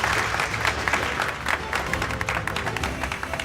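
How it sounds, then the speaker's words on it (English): Studio audience applause breaks out at a model railway building challenge, a dense, loud wash of clapping that holds steady throughout, with no talking over it. "A round of applause,"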